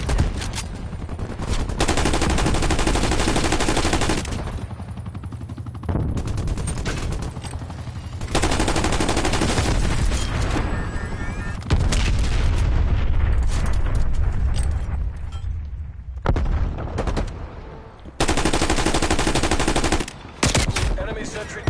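Loud bursts of rapid gunfire in a video game shootout, several sustained volleys with brief pauses between them, mixed with booming explosions and faint in-game radio voices.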